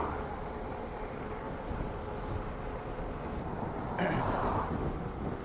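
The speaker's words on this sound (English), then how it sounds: "It's pretty windy coming down." Steady roaring wind buffeting the microphone throughout while riding a mountain bike fast downhill, with a brief surge of gusting near the end.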